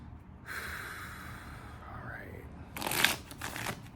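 Tarot and oracle cards being shuffled by hand, a soft papery riffling that runs for a few seconds, then a brighter burst of quick card slaps and flutters near the end, fairly quiet and close.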